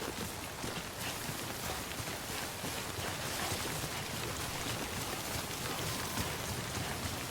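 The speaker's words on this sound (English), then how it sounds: "there's a special type of rain here that makes stuff age quicker for some reason." Steady rain falling in the video game Death Stranding, a dense, even hiss of drops that stays constant and fairly loud the whole time.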